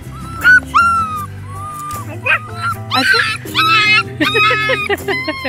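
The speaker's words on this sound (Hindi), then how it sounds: "कुत्ता कैसे बोल रहे है?" Small puppy whimpers and yips in a string of high, thin cries and short squeaky barks, loud and close, with people's voices mixed in at times.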